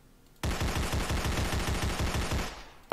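Rapid automatic gunfire from the video game Sponge Massacre erupts after a brief quiet, a loud sustained burst of evenly spaced shots rattling for over two seconds before cutting off.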